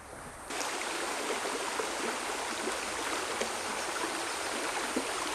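Steady rushing water of a stream flowing through a riparian area in Red Rock State Park near Sedona, Arizona, a dense, even wash of sound from close by, with no voices.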